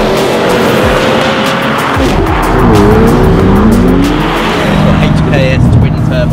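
McLaren 600LT sports car driving hard, its engine loud and close with rising and falling revs and bursts of tire squeal, while voices sound faintly underneath.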